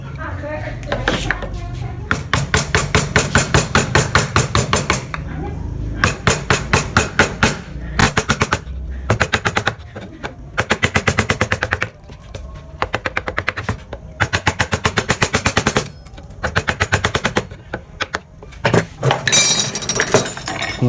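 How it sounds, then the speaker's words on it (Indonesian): A mallet drives a large gouge chisel into wood during Balinese carving, producing rapid bursts of sharp, loud, close knocking strikes in repeated runs separated by brief pauses, with no talk over it. "Kemudian gunakan pahat kol yang besar."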